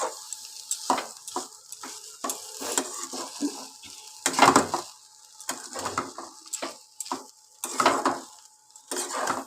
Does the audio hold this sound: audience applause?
no